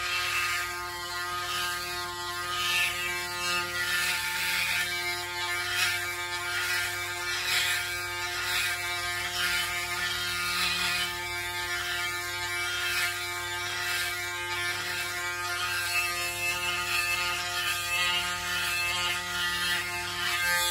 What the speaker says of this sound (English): That is the shaver.